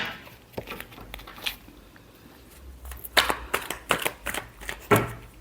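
Tarot cards being shuffled by hand during a love reading, soft papery riffles and slaps in irregular bursts, busier and louder toward the end, close and with no speech.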